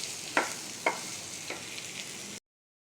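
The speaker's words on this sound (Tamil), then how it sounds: "நீ ரைஸ் ரெடி பண்ணி இதில் போட்டு கிளறி" Cooked rice stirred into vegetables sizzling in a pan for fried rice, a steady soft frying hiss with a few distinct scraping strokes of the spoon, close by, then cut to silence.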